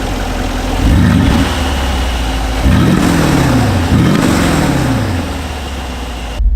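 A Brabus G700 Widestar G-Wagon engine idling inside the cabin, with three sharp revs that climb and fall away one after another, loud and close, with a steady engine drone between them.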